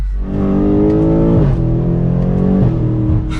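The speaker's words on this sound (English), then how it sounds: "getting this 2022 BMW M8 Competition out on the road" A 2022 BMW M8 Competition coupe on the road, its engine a loud, steady drone that rises in pitch twice as it accelerates, with small dips at the gear shifts.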